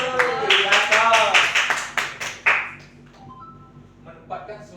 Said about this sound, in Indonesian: Sekali lagi kita berikan tepuk tangan.